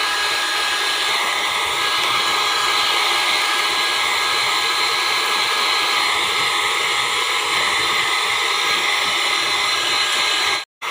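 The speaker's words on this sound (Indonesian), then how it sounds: "semuanya ini saya mix dengan menggunakan mixer. Mixer dengan menggunakan kecepatan tinggi." An electric mixer beats cake batter for a steamed coconut-milk layer cake at high speed, a loud, steady, close whirring drone that runs continuously and cuts off abruptly near the end.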